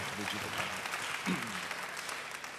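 A church congregation applauds with sustained, fairly loud clapping, and a voice speaks over the applause.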